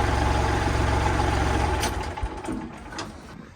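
A tractor engine idles steadily with a loud, low rumble that drops somewhat and grows rougher partway through, with a few light clicks and knocks near the end.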